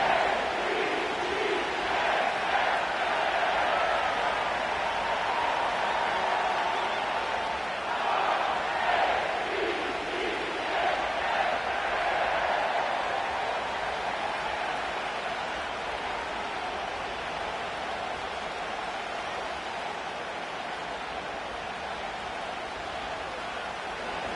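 Stadium crowd at M&T Bank Stadium in Baltimore in an EA Sports NFL football game, a broad continuous roar of cheering with rising swells early on, then settling into a steadier distant murmur.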